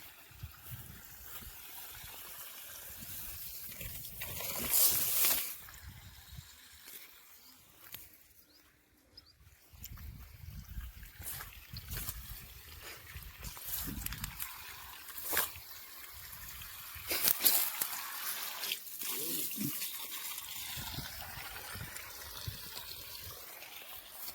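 Faint water trickles and splashes steadily from a pipe, flowing and dribbling outdoors on a farm at a low level, with a couple of louder gushing moments along the way.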